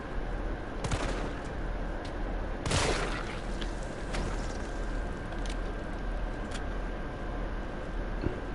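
Gunfire in Resident Evil 3 Remake, with a few sharp shots over a dense, steady background rumble, the bursts fairly close and loud.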